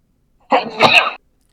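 A single sharp sneeze, close and loud, bursting out abruptly and ending quickly, with silence around it.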